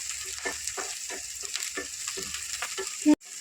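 Onions and six chopped green chillies frying in a pan for village-style tamarind-leaf chicken, a steady close sizzle with soft stirring clicks throughout, ending in a brief sharp clatter before quieter frying resumes.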